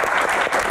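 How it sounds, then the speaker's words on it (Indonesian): Audience applause fills a talk-show style Q&A session, a dense, steady clapping from the crowd throughout the brief moment with no voices on top. "Tepuk tangan, terima kasih Dok."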